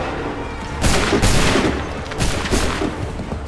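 A musket volley in the Assassin's Creed III video game roars out as loud, overlapping bursts of fire, a second ragged round following a moment later over constant battlefield rumble.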